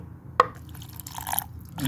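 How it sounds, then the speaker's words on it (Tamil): A single sharp drip or splash as a little water is poured into a cooking pot of mutton curry, followed by soft trickling and faint clatter against a steady low background hum. "லைட்டாக தண்ணி ஊற்றிக்கிறோம்."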